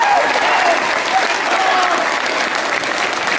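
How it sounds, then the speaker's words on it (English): A large audience applauds steadily at a school talent show, dense and sustained from start to finish, with a few faint whistles cutting through the clapping. "Please give yourselves a big round of applause once again."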